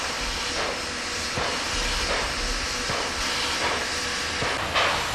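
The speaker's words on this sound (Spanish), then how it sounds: "Esta es una potente máquina de la serie JS tipo 141 Mikado, la número 8278, saliendo de los cocherones del depósito de Baotou" A JS class 2-8-2 Mikado steam locomotive, number 8278, pulls out of the depot sheds at Baotou, its exhaust chuffing in slow regular beats over a constant hiss of steam, fairly close and loud.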